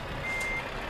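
A truck's reversing beeper sounds steadily in Euro Truck Simulator 2 multiplayer, driving a Scania S New Gen with a trailer, over a constant engine drone, fairly quiet and with no talk.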